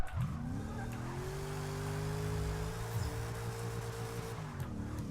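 Car engine revving in the Forza Motorsport 6 Apex racing game, a loud, steady drone with rising and holding pitch across the whole stretch, with no talk over it.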